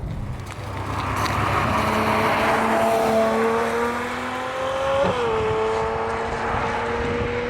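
A Ferrari 812 Superfast V12 revs loud and close, its harmonic note climbing steadily through a long pull, briefly dipping on a shift near the end, then carrying on strong with no talk over it.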